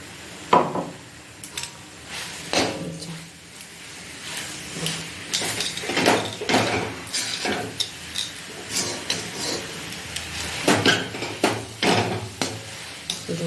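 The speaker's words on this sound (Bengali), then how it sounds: "সুজিটা আর দুধটা করে রেখেছিলাম, সেটাকে এখন এর মধ্যে দিয়ে নাড়বো ভালো করে" Semolina and milk stirred in a wok for sugar naru, with a series of scraping and knocking strokes of a spoon against the pan, a faint sizzle between strokes.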